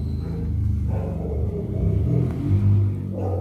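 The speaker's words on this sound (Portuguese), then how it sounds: "carro barulhento." A noisy car passes outside with a low engine rumble that swells and revs, then eases off over a few seconds, heard from indoors.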